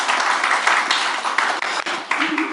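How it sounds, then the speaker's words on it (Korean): An audience at a political reform forum breaks into applause to welcome arriving guests, with steady, dense clapping that fills the room for a few seconds without pause. "박수로 환영해 주십시오."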